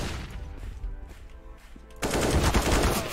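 Bursts of automatic gunfire from a competitive shooter match, dense and loud, intensifying sharply partway through into sustained rapid shots.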